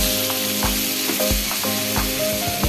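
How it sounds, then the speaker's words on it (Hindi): Butter melts in hot oil in a kadai, a steady bright sizzle with soft low thumps about every half second. "कड़ाई रे तेल गरम करिबा और किछि बटर पकेइबा।"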